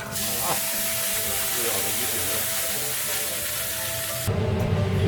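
Hot water poured into a pan of fried fish gives a loud, steady hiss and sizzle that runs the whole time and swells near the end; voices murmur faintly underneath.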